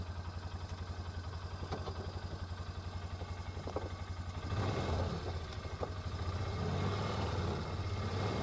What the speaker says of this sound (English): we're going to take a Polaris ride here